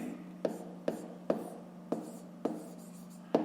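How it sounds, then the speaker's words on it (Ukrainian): A pen or chalk writes by hand during a maths lesson, making scratchy strokes broken by regular taps about every half second, with no talking during these strokes. "Пишемо."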